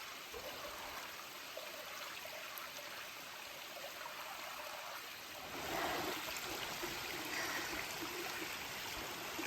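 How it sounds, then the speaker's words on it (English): A creek flows near a waterfall by the Lower Shoals shelter on the Pinhoti Trail, a steady, soft rushing and trickling wash that swells slightly louder partway through, with no voices. "Got a creek on 3 sides"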